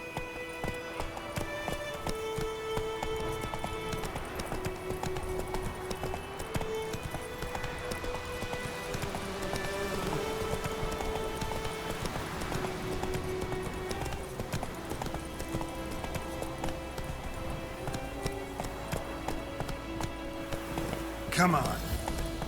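Horse galloping in The Witcher 3, a steady clip-clop of hooves running under game music, with a voice speaking over it.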